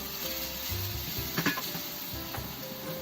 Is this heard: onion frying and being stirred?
yes